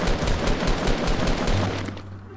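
Rapid SMG gunfire in the Fortnite battle royale video game, a dense continuous burst of shots lasting about two seconds, loud and close, then fading.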